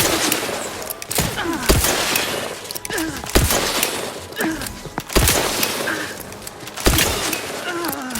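Firefight in the video game The Outer Worlds 2: repeated sharp gunshots and bursts crack out irregularly across the scene, mixed with game effects and brief voiced lines.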